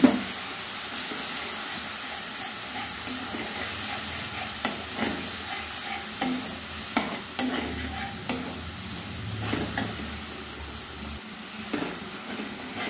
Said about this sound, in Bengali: এবার গুঁড়ো মশলাটা দিয়ে একটু কষিয়ে নেব